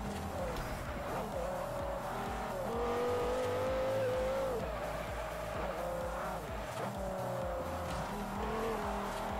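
A race car's engine roars steadily in the Forza Horizon racing game, with rising and falling revs, tire squeal and skidding on a practice run of the track, loud and continuous throughout.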